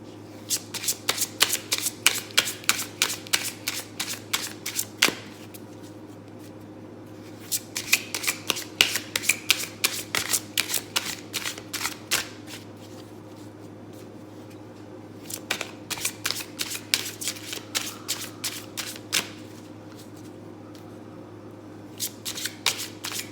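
Tarot cards shuffled in repeated rapid riffling bursts, each a few seconds long with short pauses between, close and crisp over a steady low hum; no talking.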